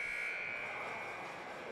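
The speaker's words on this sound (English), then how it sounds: "As the buzzer hits 0." A steady, harsh electronic buzzer sounds in a boys' high school hockey arena, marking the end of the second period; one continuous tone held throughout with no talking.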